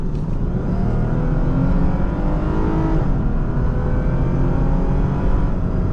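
A 2012 Lexus IS350 F-Sport engine pulls hard under acceleration, a loud continuous drone with climbing harmonics that shift as the gears change, heard up close from inside the car with no talking.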